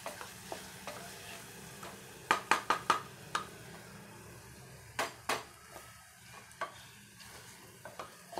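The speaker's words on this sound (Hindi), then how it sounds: "इसे मैंने फाइनली चॉप कर दिया है और मैं इसे मिक्स कर दूँगी" Blanched, finely chopped spinach stirred into dal in a pot, with soft scraping and a cluster of sharp spoon knocks against the metal rim, quiet and close amid light background noise.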